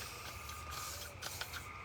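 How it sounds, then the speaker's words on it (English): An old can of bug spray, left on a garage floor since last year, hisses in a steady faint spray as someone sprays it on themselves, with a couple of brief louder bursts near the end. "This bug spray that I'm spraying myself with right now, I just found it on the garage floor."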